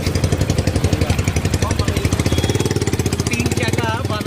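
Modified Yamaha V3 motorbike converted to three wheels, engine running with a rapid, even mechanical pulsing close by, joined partway through by a voice talking.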